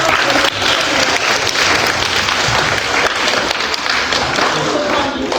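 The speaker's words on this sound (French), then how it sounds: "Applaudissez-nous." Children in the National Assembly hemicycle clap loudly and steadily, the applause filling the chamber, with voices mixed into the crowd sound.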